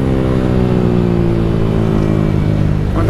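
Honda Titan 160 motorcycle engine running loud and steady close by, holding a throaty drone with a slight change in pitch near the end, suggesting a gear shift.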